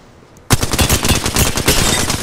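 Rapid automatic gunfire in a video game arena match, a dense burst of shots starting abruptly and continuing loud and close for about two seconds, with no talk over it.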